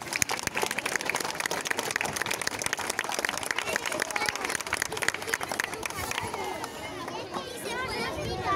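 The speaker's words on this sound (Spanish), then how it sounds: "Fuerte el aplauso para Víctor" Audience applause and cheering for magician Víctor at an extreme magic show, a loud, busy crowd of clapping that fades toward the end as a voice speaks over it.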